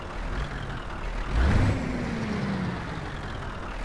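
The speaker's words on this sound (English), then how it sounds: "You can hear that sort of turbo whine almost." Scania T truck engine, tuned to be louder and more throaty, in the Euro Truck Simulator 2 driving game: a steady, deep engine drone with a rising turbo whine that swells briefly near the middle and then holds.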